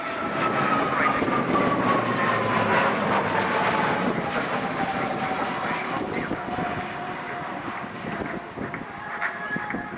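A propeller airplane drones loudly overhead at the Royal International Air Tattoo 2013 airshow, its engine pitch slowly sliding downward as it passes through a steady, sustained flyby.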